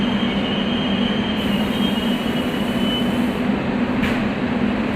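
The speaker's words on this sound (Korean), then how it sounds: "이번에는 뱀눈이라고 불리는 열차가 들어왔습니다" A Suin-Bundang Line subway train rumbles loudly and steadily with a grinding hum and a faint wheel squeal, rolling into a station.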